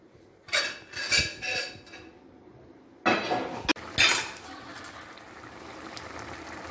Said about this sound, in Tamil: இப்போ இதை நான் மூடிடுறேன்.